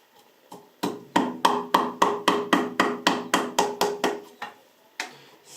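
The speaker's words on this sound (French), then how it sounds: "je vais donc taper mon bois totalement tranquillement" A steel chisel tapped into wood in a museum of antique tools: about a dozen crisp, evenly spaced knocks close by, with a short pause before one final tap.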